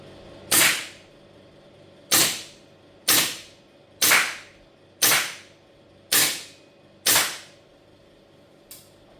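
A GHK M4 gas airsoft rifle firing single rounds outdoors: seven sharp, evenly spaced cracks about a second apart, each with a short fading tail, followed by a fainter eighth shot.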